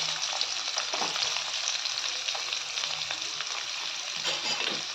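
Curry leaves, a single green chilli and finely chopped onion fry in a pan, giving a steady, close sizzle that holds for the whole stretch, with light stirring and no talking.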